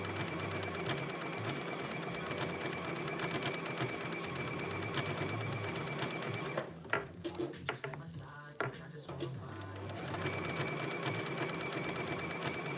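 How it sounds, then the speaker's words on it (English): A sewing machine stitches fabric for a top in a fast, steady mechanical chatter, pausing briefly midway with a few clicks and taps before resuming at an even pace. "it looks like everything is sewing like it needs to"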